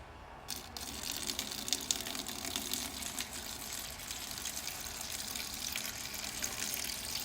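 Water pours steadily into a fish aquarium, a continuous close splashing gush that runs without pause for several seconds, with no voices over it.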